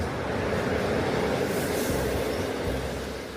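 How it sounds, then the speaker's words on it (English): Interior of a passenger train travelling east from Poland into Ukraine, a steady, loud rolling rumble of wheels on rails filling the whole stretch and easing slightly at the end. "taking the train that runs east from Poland"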